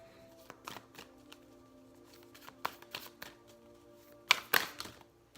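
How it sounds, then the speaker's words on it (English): Shamanic oracle cards are shuffled and tapped in a quiet room: scattered soft riffles and thumps build to a louder burst of quick card flicks near the end, over a low hum. "Now's the time where I'm going to pull some shamanic oracle cards for you"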